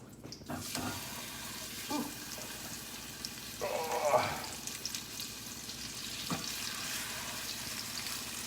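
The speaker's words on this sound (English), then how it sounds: "we're going to take our veal chops and we're going to brown them in the pan where the onions were" Veal chops browning in a frying pan that held onions, a steady low sizzle throughout with occasional clanks and shuffles of the pan, fairly faint.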